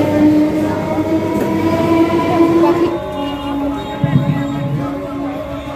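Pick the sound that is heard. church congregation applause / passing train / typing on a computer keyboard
passing train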